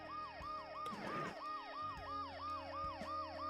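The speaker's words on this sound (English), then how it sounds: "The noise the ambulance makes will cover the sound of the glass breaking." An ambulance siren in the video game Dead Synchronicity wails in a steady, repeating rise and fall. It is briefly interrupted by a short noisy crash early on and then keeps cycling.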